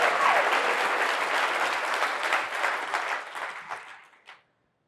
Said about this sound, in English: let's give Abhijit another round of applause for that amazing demo